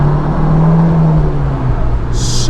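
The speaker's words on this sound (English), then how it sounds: "Outside of VTEC, super throaty." Honda S2000 fitted with an aFe Takeda intake, revving below VTEC with a throaty, steady engine drone and a brief higher whine near the end, recorded close with no talk.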